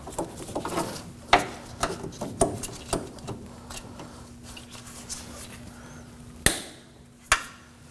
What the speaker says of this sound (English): Using a pair of cutters, cut the end off.